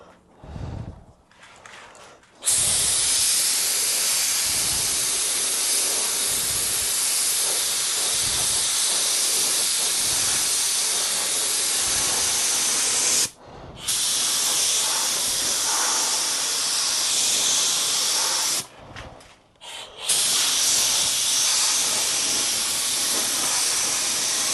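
A paint spray gun hissing as it lays a wet coat onto the body of a Ford Granada Consul MK1 3.0 GT, long loud continuous bursts close up, broken by a few short pauses between passes.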